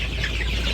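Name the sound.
chickens clucking in the coop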